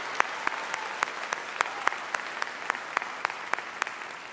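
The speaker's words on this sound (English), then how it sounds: "So let's give those folks a round of applause." Large audience applause at a convocation ceremony, a wide steady wash of clapping heard at a moderate distance, with a few sharper individual claps standing out in a regular pulse.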